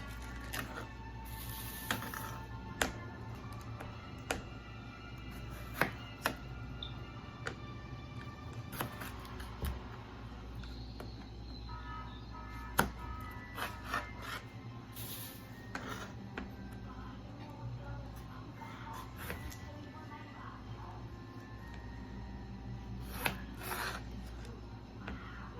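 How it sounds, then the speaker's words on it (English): A kitchen knife cuts fresh tomatoes in half and in quarters on a board while preparing Jamaican stew chicken and jollof rice, giving faint, scattered taps and clicks against a quiet room background. "I'm just gonna cut them in half or in fourths because I am blending them up."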